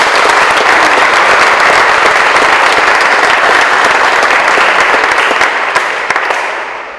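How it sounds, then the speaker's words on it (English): Loud, sustained applause from an audience at a college celebration of learning, with dense clapping throughout that fades out over the final second. "Can we all give a round of applause?"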